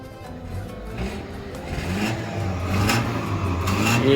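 A Honda car engine revs and accelerates on a test drive in a workshop area, rising mid-pitched drone building steadily louder over about four seconds, heard up close with no talking.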